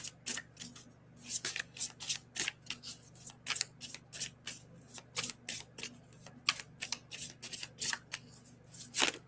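Oracle cards are shuffled in a quiet room, giving a long run of quick, crisp riffling and flicking bursts in an uneven rhythm, close and fairly soft.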